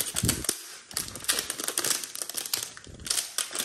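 Crinkly plastic wrapping around a box of Sendifit joint-pain supplement rustles and crackles in dense, close bursts as the packaging is pulled open, with brief pauses between handling.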